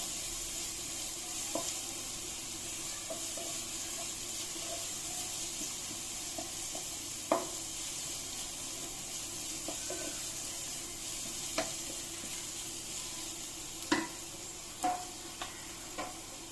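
Turmeric and other spice powders sizzle steadily in a pan for chicken curry, with occasional sharp clicks and scrapes of a spoon stirring through the continuous frying hiss; no one speaks.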